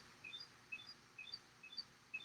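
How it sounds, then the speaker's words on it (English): A small bird sings faint, repeated high chirps in a steady rhythm of short notes, roughly two per half second, over quiet outdoor background noise. "Absolutely love hearing this bird."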